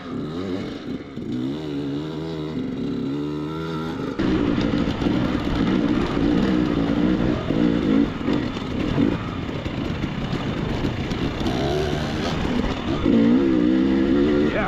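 A dirt bike rides over slick rock, its engine burbling and revving in uneven bursts as the throttle opens and closes, staying close and loud throughout.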